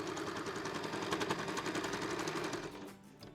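Sewing machine doing free-motion quilting with a straight-stitch foot on an art quilt of fabric scraps: a close, continuous rapid needle chatter that rises, then slows and fades near the end.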